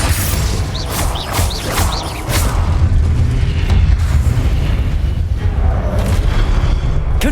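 Confringo blasting spell in Hogwarts Legacy, a run of heavy booming explosions with crackling bursts, loud and close and rolling on with rumbling debris, mixed with sharp magical whooshes and high chiming tones.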